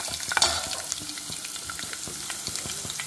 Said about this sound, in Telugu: పల్లీలు, ఆవాలు డ్రై అయినాక అల్లం వేసుకోవాలి ఫ్రెండ్స్